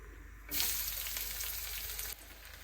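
Chopped onions drop into hot oil left from frying katla fish, bursting into a loud, steady sizzle that holds for about two seconds before easing off.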